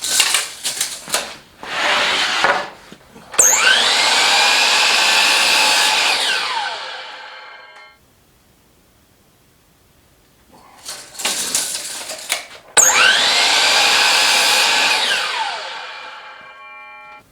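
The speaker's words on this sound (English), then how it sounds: "it is just an incredibly powerful saw" A DeWalt DWS779 sliding miter saw spins up with a loud high whine, runs, and winds down, then after a quiet pause starts again for a second run, heard close with no talk.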